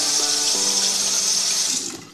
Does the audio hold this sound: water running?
yes